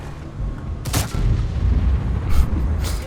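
Tank cannons fire in the World of Tanks video game: a loud, close boom around the one-second mark and another blast later, over a low rumbling battlefield backdrop.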